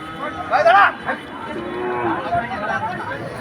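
A cow lets out a loud moo in the middle of a busy cattle market in Betaga, with people talking in the background.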